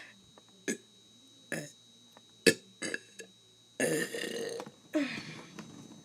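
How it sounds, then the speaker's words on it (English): A person burping repeatedly, a series of about seven close, loud belches of varying length, with longer rough ones toward the end, separated by quiet pauses. "I forgot how to burp."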